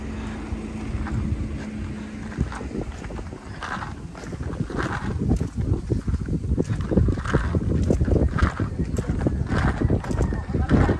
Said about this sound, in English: up here high, you get this nice cool breeze